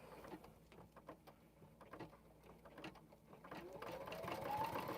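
A sewing machine runs a bean stitch across a quilt, a soft mechanical chatter in short bursts that grows into a steadier hum, heard close in a quiet room.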